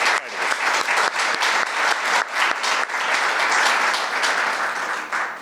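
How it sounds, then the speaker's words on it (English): A crowd at a youth award ceremony breaks into steady, sustained applause that fills the room, dense and even throughout with no speech over it. "how about another round of applause for these absolutely incredible titles"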